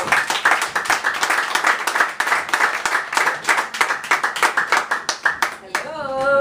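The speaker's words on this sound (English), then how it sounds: "Clap it up for Maya." A live audience at a spoken-word poetry night claps steadily and loudly for a poet taking the stage. The applause is dense and sustained, then cuts off near the end into a brief sung or spoken voice.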